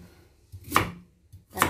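Carrots are cut with a knife on a board, two crisp, close chopping strokes spaced almost a second apart in a quiet setting.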